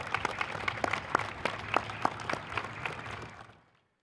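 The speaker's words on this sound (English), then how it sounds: "Can we give one more round of applause, please?" Scattered hand claps from a modest audience at a military change of responsibility ceremony. The individual claps stand out at close range, then the sound thins and fades into silence.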